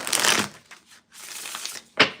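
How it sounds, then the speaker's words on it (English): Papery riffling bursts of a tarot deck being shuffled up close, in two or three rough passes with a brief pause between. "One more shuffle."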